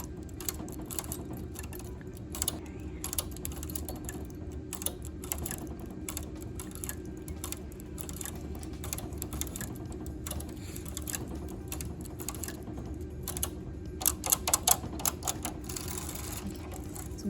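A knitting machine doing one-in-one lace transfer work, needles moved out across the bed, producing steady rapid clicking and clacking with a brief burst of sharper ticks near the end, close and continuous with no voice.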